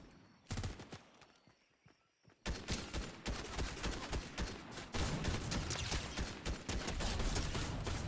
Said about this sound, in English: Oh, somebody else is shooting at me.